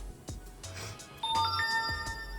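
A short rising electronic Wi-Fi connection chime plays from a CAT S22 Flip phone, a quick sequence of ascending tones ending on a sustained ding, faint and close.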